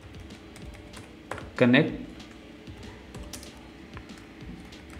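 Typing code on a computer keyboard, soft scattered keystrokes close by, with someone talking over them.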